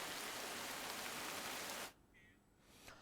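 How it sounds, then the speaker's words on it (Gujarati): Steady, dense rain pours down across Ahmedabad after a hot spell, loud and continuous hiss that cuts off abruptly near the end, leaving a quieter background. "આખા અમદાવાદમાં મેઘો વરસી રહ્યો છે"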